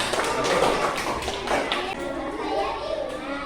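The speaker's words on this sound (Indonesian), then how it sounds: "tepuk tangan ya, tepuk tangan" Classroom students clapping hands together, scattered taps and slaps mixed with children's chatter and voices, fairly close and busy throughout.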